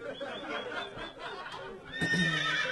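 A horse neighs as a comedy sound effect during a live stand-up roast show, a loud whinny rising and falling over about three seconds with no talk over it.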